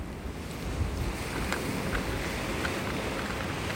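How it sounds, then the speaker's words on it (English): Steady wind buffets a beach in North Naples, Florida, a constant loud rush with a low rumble of surf beneath it. "Take advantage of the shelter of the trees to block the wind."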